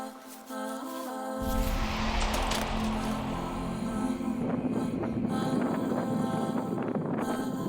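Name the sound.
wind blowing over a sandy beach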